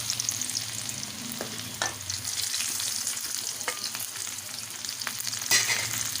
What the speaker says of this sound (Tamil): இப்போது இந்த பூண்டை எண்ணெயில் போட்டுக்கலாம்.